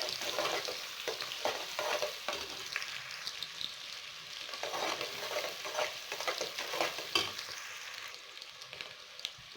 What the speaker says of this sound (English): You put the onion, allow it to fry before you put the other things.